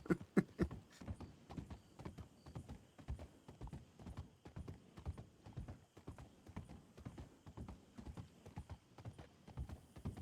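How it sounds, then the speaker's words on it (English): Steady, rhythmic clip-clop of horse hooves trotting along in a video game, close and continuous for several seconds, with no talking. "Oh, it's a horse."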